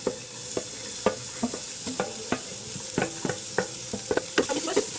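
Finely chopped onion sautéing in a pan, a steady sizzle broken by repeated scraping stirs at an uneven rhythm, close and fairly loud, no voices.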